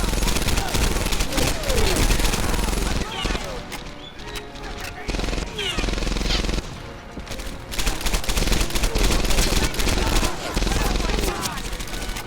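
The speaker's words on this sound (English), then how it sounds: "That is an LMG." Light machine gun fire in the video game Medal of Honor: Airborne roars in loud, sustained rapid bursts of gunshots. The firing is nearly continuous, with only brief lulls, and dominates the mix throughout.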